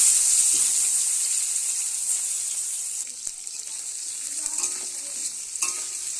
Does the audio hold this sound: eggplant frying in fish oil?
yes